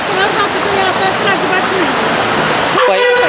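Rainwater rushing through a town drain in Islampur, a loud continuous flowing wash heard close up, with a voice talking over it throughout.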